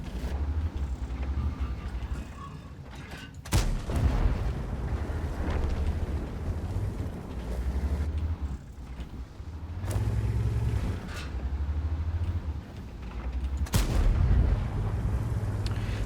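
In a tank video game, a tank's main cannon fires three heavy booming shots, spaced several seconds apart, over a constant low engine rumble and track noise.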